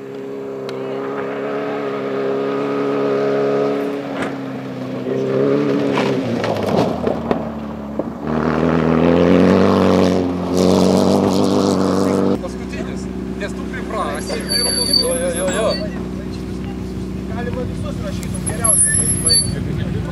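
A buggy engine revs loudly and pulls away in an auto park, pitch rising and falling through gears before settling into a steady drone, with voices talking over it.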